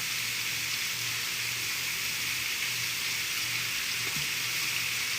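Butter sizzling in a pan with sausage, a steady, even hiss of frying that holds at a constant level throughout, with a faint low hum beneath and no talking.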